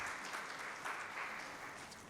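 Audience applause for mountaineer Samina Baig at a panel on athletes: a steady, fairly faint wash of many hands clapping at a distance, with no clear voices over it.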